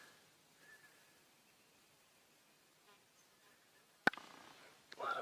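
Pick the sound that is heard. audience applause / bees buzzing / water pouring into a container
bees buzzing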